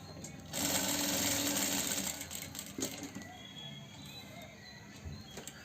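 A sewing machine stitches a shirt collar in one loud, steady burst of rapid needle chatter lasting about a second and a half, then quieter clicks and handling noises follow.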